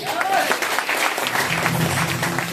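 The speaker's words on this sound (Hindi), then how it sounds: "तो इसी बात पे ताली होनी चाहिए" An indoor audience at a talk bursts into close, steady clapping that holds for a couple of seconds without pause.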